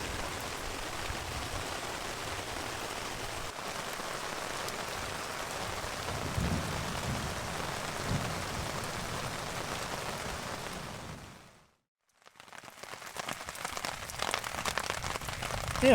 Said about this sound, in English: As you can hear, the thunder's really ramping up too.